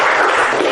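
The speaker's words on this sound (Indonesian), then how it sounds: "Tepuk tangan dong" Audience applause at an indoor gathering, a dense, loud wash of many hands clapping continuously for a brief moment.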